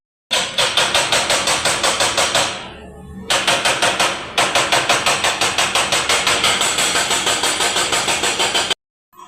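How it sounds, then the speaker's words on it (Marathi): An excavator digging nearby makes a loud, rapid, evenly spaced clatter of engine pulses. It pauses briefly, then carries on at the same pace. "पाठीमागे काम चालू येतं त्या खोदण्याच्या गाडीचा"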